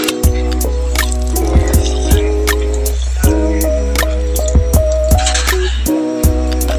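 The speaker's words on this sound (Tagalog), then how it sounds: "sinamahan ko nga pala si Flores uminom dito sa water dispenser ng school namin." A school water dispenser filling a container with chilled, filtered drinking water: a steady low hum under irregular dripping and splashing of water, close and fairly loud, with no talk.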